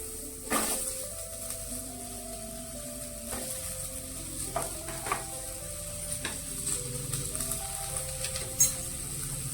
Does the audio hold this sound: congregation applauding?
no